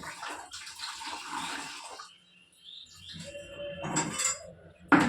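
Water running from a tap into a bucket, a splashing, hissing stream in two bursts separated by a brief quiet gap, with light clinks of the bucket nearby.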